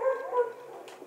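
Dogs barking in short bursts during a Minecraft session, fairly close and moderately loud, with no talk over them.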